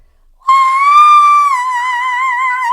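A singer's sustained high-pitched whistle-register note enters abruptly after a brief silence and holds loud and clear with a slight waver for about two seconds.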